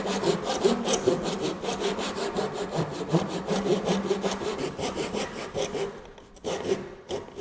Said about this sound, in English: Manually sawing sucks.